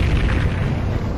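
Missile explosion in the video game Body Harvest, a deep, loud, rumbling boom filling the whole moment with no talking.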